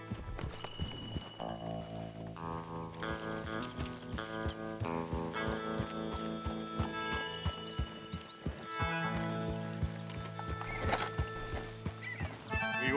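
Horses whinny over a steady beat of hooves in the video game Red Dead Redemption 2, set against loud, dense music that runs throughout.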